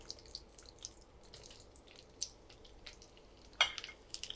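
Onions fry in a spoonful of oil in a pan for okra do-pyaza, giving a soft, steady sizzle broken by scattered crackles and one sharper pop.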